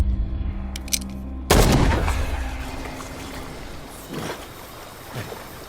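A gunshot from the horror game Call of Cthulhu cracks out loud and close about a third of the way in, followed by a decaying rumble and a few faint clattering sounds.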